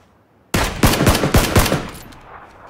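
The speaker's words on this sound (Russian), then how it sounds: "По нам вон они стреляют, два типа." Burst of automatic rifle fire in PUBG on the Miramar desert map, about six sharp, loud, rapid shots after a moment of quiet, each with a short echoing tail that fades out at the end.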